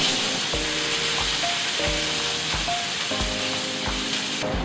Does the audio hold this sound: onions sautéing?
yes